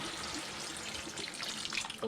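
Water pours in a steady, close splash into a pan of Kapampangan-style chop suey seasoned with oyster sauce and pepper, with no talk.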